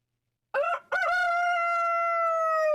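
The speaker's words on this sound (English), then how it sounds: "where the hell is my chickens?" A rooster crows once alone, a short clipped note then a long sustained ringing call, loud and close with no other sound around it.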